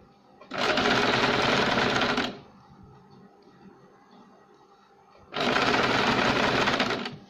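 A sewing machine stitches two frock frills together for a baby girl's umbrella frock, running in two loud, fast, even bursts with a quiet pause between them.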